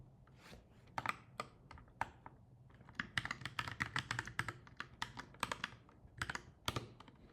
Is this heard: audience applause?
no